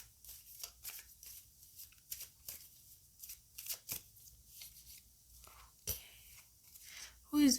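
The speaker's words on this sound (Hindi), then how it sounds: "I just want to shuffle for this group more" Tarot cards being shuffled by hand, a run of soft papery riffles and flicks close to the microphone, quiet and irregular, ending in a louder rustle.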